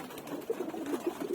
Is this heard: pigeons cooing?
yes